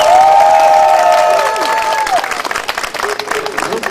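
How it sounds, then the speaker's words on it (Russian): An audience at a village karaoke event claps steadily as a broad, loud wash, with a held tone fading out in the first half and the clapping continuing alone. "Итак, ваши аплодисменты."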